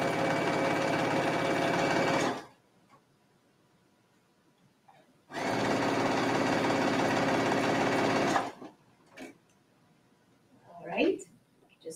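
Sewing machine running a straight stitch on fussy sweater fabric while hemming, in two steady close bursts of rapid mechanical whirring separated by a quiet pause, followed by light handling noises.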